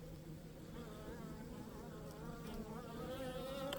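Asian honeybees swarm in a steady, dense buzz around an opened hive on a warm day, a continuous droning hum close by that swells slightly toward the end.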